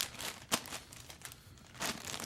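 Plastic zipper-top freezer bag packed with clothes being squeezed to push the air out, giving quiet close crinkling and rustling with a few sharper crackles.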